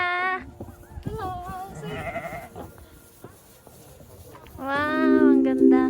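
Sheep on Qingjing Farm in Nantou, Taiwan bleat several times at close range, a wavering cry at the start, softer bleats in the middle, and a loud drawn-out call at the end, with people chattering faintly around them.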